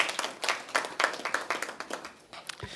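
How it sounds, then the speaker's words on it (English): A small group at a press conference applauds steadily, quick overlapping hand claps that soften slightly toward the end. "we should give her a round of applause for her efforts"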